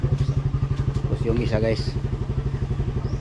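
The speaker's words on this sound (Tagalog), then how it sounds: "May isa pa akong motor dito doon." A motorcycle engine idles close by with a fast, even putter while someone talks over it.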